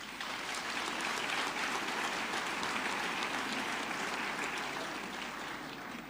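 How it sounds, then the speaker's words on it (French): Sustained applause from a large audience at a West African first ladies' conference in Côte d'Ivoire, a dense, steady wash of clapping that stays loud and even for the whole stretch. "Et je vous demande de les applaudir très très fort"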